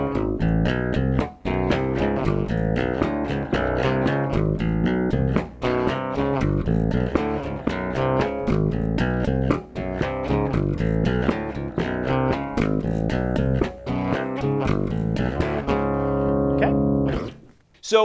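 Bass guitar plays a riff, a busy, rhythmic line of plucked notes and chords repeating steadily, close and clear, ending in a ringing note.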